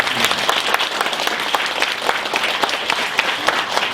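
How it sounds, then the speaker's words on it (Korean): A church congregation at a New Year's Eve service applauds its volunteers, a steady, moderately loud round of clapping from many hands with individual claps audible throughout. "우리 한 해 동안 수고한 모든 봉사자들을 위해서 우리 함께 박수"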